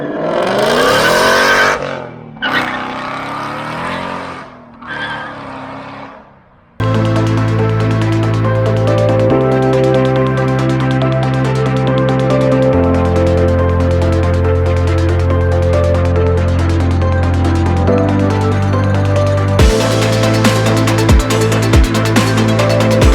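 A 2019 ROUSH supercharged Mustang GT engine, loud and close, with steady droning tones that shift pitch in several steps, a brief separate sound opening before it and sharp clicks near the end.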